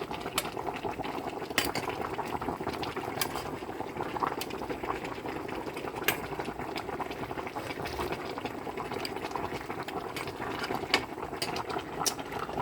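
Fish and vegetables boil in a pot, making a steady dense bubbling with faint clicks and ticks scattered throughout, no voices.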